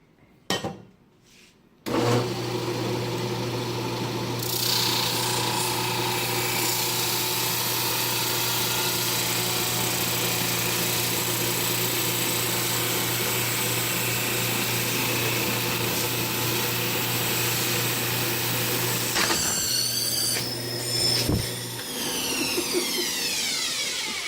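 A Flatmaster sander with 120 grit paper works across steel in one long, steady, loud whine with a constant hum. It spins up after a few brief knocks and winds down near the end with a falling tone. No one talks.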